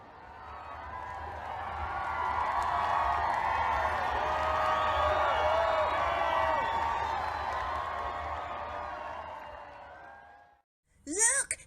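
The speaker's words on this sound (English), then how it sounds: "The cheering grew louder and louder." Crowd cheering at a footrace swells from faint to a loud, sustained roar, then fades away, followed by a short burst of voice at the end.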